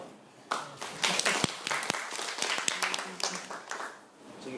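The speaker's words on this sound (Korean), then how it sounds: "지금 아무도 얘기 안 하시고 그냥 박수만 좀 치셨잖아요" Audience applause at a keynote presentation on lifestyle: a crowd claps steadily for several seconds, a dense patter of hand claps that swells and then gradually fades, with no one speaking.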